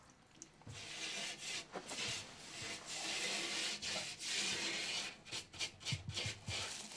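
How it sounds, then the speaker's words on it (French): A brush scrubs a cement board joint with water in a bathroom under construction. The rubbing strokes are close and steady, with short pauses between them. "C'est pour ça que je la nettoie en premier avec une brosse et de l'eau."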